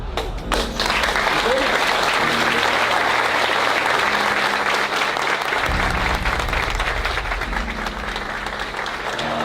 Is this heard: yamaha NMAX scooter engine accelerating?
no